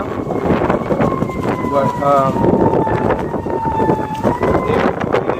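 Gusty outdoor wind roars and buffets the microphone during a small quadcopter drone flight, a loud, continuous rush with a faint high whine mixed in, while a person speaks briefly.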